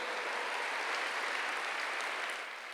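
Congregation at a church service applauding in praise of God, a steady, even wash of clapping from many hands, moderately distant and fairly soft, fading slightly at the end.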